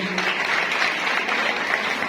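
A crowd claps steadily throughout at a Women's Day event at St. Mary's Parish, dense even applause from a room of people.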